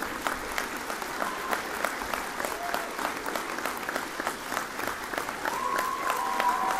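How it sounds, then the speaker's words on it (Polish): Steady audience applause at a folk education finale concert, a full, even clatter of many hands that holds throughout and swells slightly near the end, with a faint whistle-like tone rising over it. "Wielkie brawa, proszę państwa."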